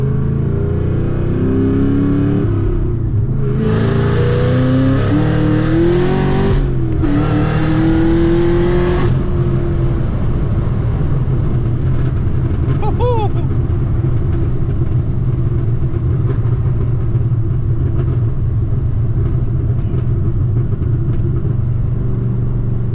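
900HP Chevrolet Camaro ZL1 pulling hard on the road, its engine roaring and rising in pitch through a couple of quick gear changes before settling into a steady loud rumble as the run eases off.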